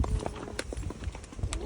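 A pony out hacking, its hooves clip-clopping in an irregular walking rhythm, close and fairly loud over rumbling outdoor background noise.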